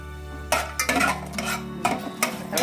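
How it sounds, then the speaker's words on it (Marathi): Whole spices, cinnamon, star anise, cloves, peppercorns and bay leaf, are stirred in hot oil in a pan, giving a steady low sizzle with several metallic scrapes and clinks of a spoon against the pan. "जरा परतून घेऊया"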